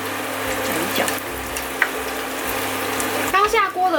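Laver-wrapped spring roll skin snacks frying in hot bubbling oil, a steady close hiss and crackle throughout that swells louder near the end, with a voice talking over it.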